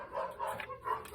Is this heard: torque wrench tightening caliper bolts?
no